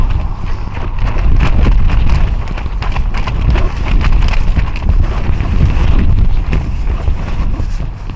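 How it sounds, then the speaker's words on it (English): High wind buffets a tarp shelter in continuous loud gusts, with flapping rustles and rumbling low-end roar throughout, close to the microphone. "the wind is making a lot of noise on the tarp"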